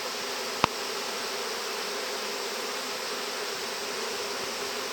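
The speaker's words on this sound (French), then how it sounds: "elles sont en train de battre des ailes très fort pour diffuser les phéromones" A swarm of honeybees fans their wings hard to spread pheromones, making a dense, steady buzz that lasts the whole time. One brief click breaks in early on.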